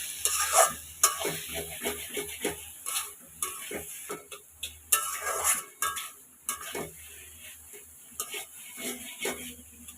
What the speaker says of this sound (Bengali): একটা ডিম ফেটিয়ে রেখেছিলাম সেটাই দিয়ে দেবো এখন ভালো করে নাড়ে দিতে হবে নাহলে ডিমটা এক জায়গায় জমা করে যাবে